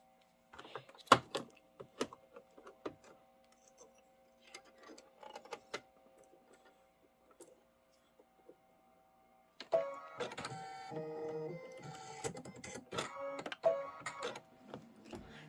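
A sewing machine quilting with white thread, stitching in quick mechanical ticking bursts with pauses, then a denser, faster run of stitching in the second half; quiet and close, no talking.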